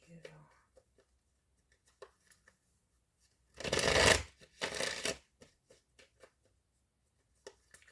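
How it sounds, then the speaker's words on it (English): A deck of cards is shuffled in two quick riffling bursts, close and fairly loud, set between faint taps and handling noises in a quiet room. "I was just going to comment on how long I'm like shuffling"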